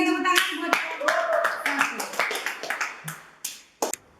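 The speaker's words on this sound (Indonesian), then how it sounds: "sekali lagi berikan tepuk tangan buat" Classroom applause for a presenting student group, a handful of separate claps with uneven rhythm mixed with short bits of voices, ending in a couple of isolated sharp claps.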